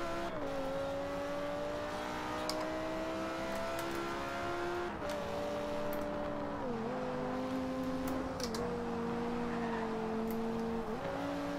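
A video game car drives along with a steady engine drone that rises and falls in pitch as it shifts and revs, heard alone and fairly loud throughout.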